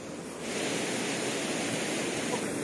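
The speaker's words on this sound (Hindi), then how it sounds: "ये झरना, मतलब झरना बोलेगा या नदी" Mountain waterfall or river near Kedarnath in snowy weather, a constant broadband rush of water that swells a little louder after the first half second and then holds steady.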